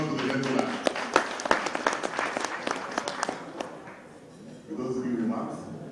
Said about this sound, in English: A round of applause for the gentleman.